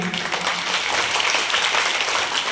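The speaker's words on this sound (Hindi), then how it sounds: "मैं तालियां चाहूंगा आप सभी की।" A steady wash of audience applause, many hands clapping densely and evenly throughout, fairly loud and without pauses.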